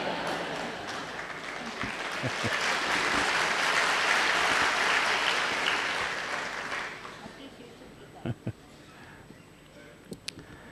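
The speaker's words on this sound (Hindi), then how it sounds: "ये शुभ शुरुआत की ताली बजी कि" Sustained audience applause at a formal ceremony in Ahmedabad, a broad wash of clapping that swells for several seconds then fades, leaving a few scattered claps at the end.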